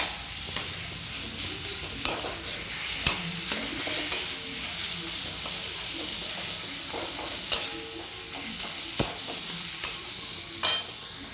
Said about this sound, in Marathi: यात टाकून घेऊ आणि याला छान परतून घेऊ गॅस कमी करायचा